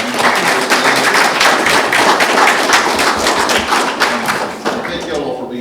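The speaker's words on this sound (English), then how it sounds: "Would y'all give a round of applause?" Audience applause at a regional water summit, a loud, dense crowd clapping with thumping, tapping hand strikes close by, sustained throughout before easing slightly near the end, with some voices mixed in.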